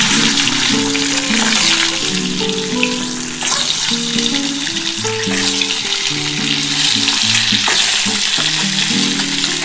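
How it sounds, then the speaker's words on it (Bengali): Boiled eggs fry lightly in oil for an egg curry, making a loud, dense, unbroken sizzle with a melodic music bed playing underneath. "ডিমগুলো খুবই হালকা করে ভেজে নেবো"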